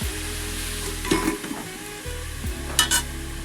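Bottle gourd shukto being stirred as it fries in a pan: a close sizzle under spoon scrapes and a few sharp clinks against the pan, with no voices.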